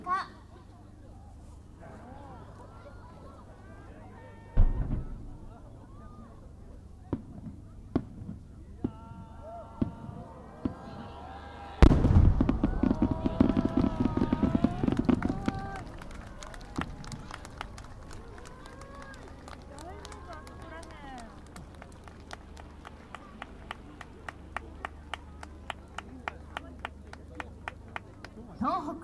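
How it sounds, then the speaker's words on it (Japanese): A sanshakudama giant firework shell by Abe Enka at the Noshiro fireworks festival, with a sharp launch thump followed moments later by a heavy booming burst and crackling, amid an outdoor crowd and an announcer talking. "能代の花火の三尺玉でした"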